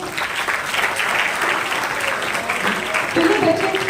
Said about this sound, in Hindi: ताली तो बजा सकते हैं आप इससे